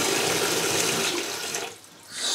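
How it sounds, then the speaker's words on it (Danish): Warm water running from a kitchen tap, a steady close gushing splash that dips briefly before picking up again. "Og jeg putter lidt varmt vand i, så det ikke er så iskoldt."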